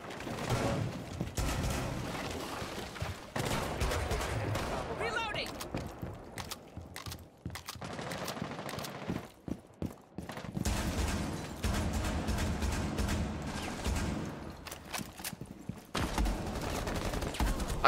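Gunfire in the video game Rainbow Six Siege: dense bursts of automatic fire and single shots cracking loudly in close succession, with a player talking over parts of the action.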